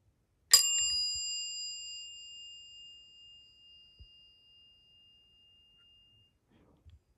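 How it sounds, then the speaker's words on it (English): A classic Dover traditional mechanical elevator chime gives one clear, bright ding that rings out and slowly decays over several seconds, followed by faint handling thumps. "This one is your classic Dover traditional elevator chime."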